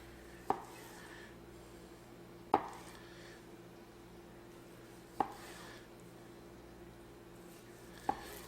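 A knife cutting slices from a smoked brisket cooked hot and fast on a Weber kettle, four soft, spaced thuds on a board against a faint steady hum.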